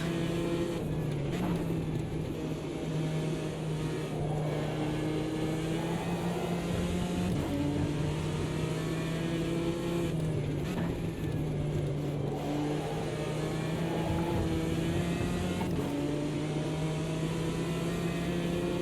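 GT4 race car engine at Monza in Automobilista 2, a steady close in-car drone rising through the gears with brief dips at each shift and a few deceleration drops for corners, running continuously without talk.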